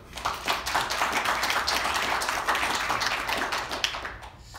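A small crowd at a Vue.js developer meetup in Budapest claps, a brisk burst of overlapping hand claps close by that swells quickly and tapers off after a few seconds.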